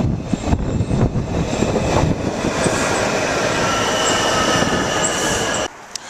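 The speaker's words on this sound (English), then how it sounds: "So now we're going to hop on the metro" Metro train ride heard from inside the car, a loud steady rumble of wheels on rails with high squealing tones, dropping away abruptly near the end.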